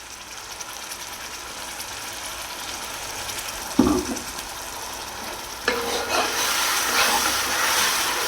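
Ground tomato paste hitting a hot kadai for green chicken gravy brings a burst of loud sizzling and hissing steam. It follows a quieter stretch of stirring and frying and stays close and continuous.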